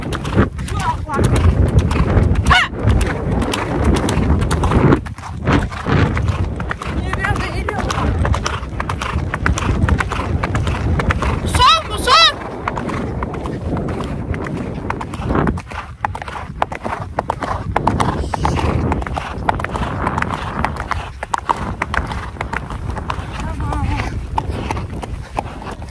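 A horse gallops through a forest with steady, rapid hoofbeats close by, continuous for the whole stretch, with occasional snorts and rider noise mixed in.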